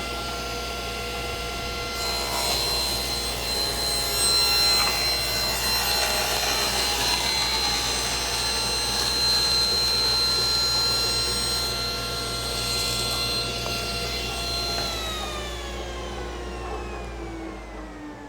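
Table saw making a test cut with its cabinet dust collection running through a PVC-ducted collector, a steady loud whine with tonal hum lasting throughout and easing toward the end as the blade winds down.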